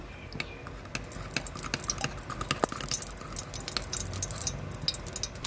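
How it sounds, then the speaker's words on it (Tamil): Ghee being poured into a pressure cooker, with soft close trickling and dripping plus small clicks and taps of utensils on the metal, and no talking. "அதுக்கு குக்கரை வச்சுட்டு அதுக்கு தேவையான நெய் ஊற்றிக்கலாம்"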